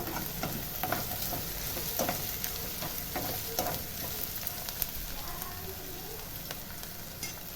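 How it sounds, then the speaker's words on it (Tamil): Vadam fries in hot oil with a steady, dense sizzle, punctuated by light stirring clinks and scrapes, close and continuous with no talking. "அது வடம் நல்லா பொரியுது."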